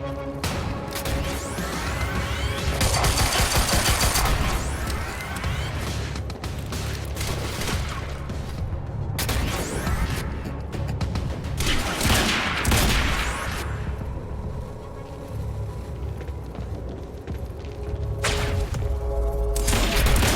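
Dense rifle gunfire and explosive booms from the video game Quantum Break fill the scene, with rapid bursts and heavy impacts rising and falling continuously.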